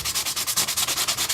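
Quick back-and-forth rasping of a sanding block on a surface, about a dozen rhythmic strokes up close, with no voices.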